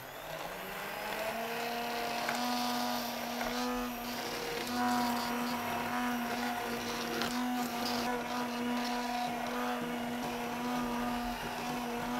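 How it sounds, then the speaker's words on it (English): A steady motorized whirring from a blender mixing crème anglaise with flour drones continuously at an even pitch, close by, like a hand blender running without pause. "And then I'm going to grab my blender."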